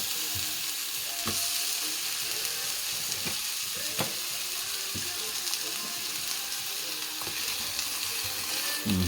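Fake bacon sizzles and crackles in a pan of hot oil, a steady frying hiss broken by occasional sharp pops and clinks, close and moderately loud.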